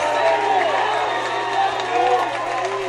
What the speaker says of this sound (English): To our left, they're cheering.